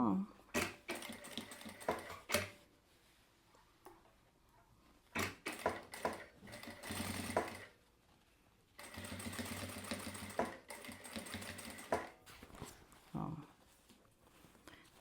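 A sewing machine stitches down the side of a fabric panel in short, loud bursts separated by pauses, close by, with someone talking between and over the runs.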